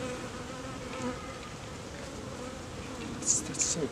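Honeybees buzzing around an open hive frame holding eggs and larvae: a steady, low, droning hum throughout, moderately close, with a couple of brief sharper sounds near the end and no speech.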